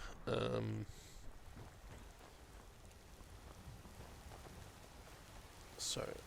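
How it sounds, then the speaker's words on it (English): Rain in the video game Skyrim: a soft, continuous hiss of rainfall with scattered drops runs throughout, faint and steady, interrupted by short bursts of louder sound at the start and near the end. "Quite rainy out here too."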